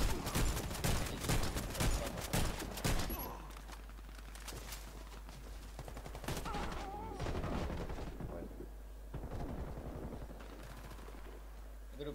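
Loud bursts of video game gunfire crack in quick succession, then sporadic shots sound amid quieter stretches, with occasional voices underneath.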